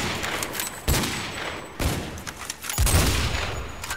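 Rapid gunfire bursts in a Minecraft PvP battle with the Flans mod: sharp, loud volleys starting around one second, again near two and three seconds, with a dense crackle of shots between them and no talk.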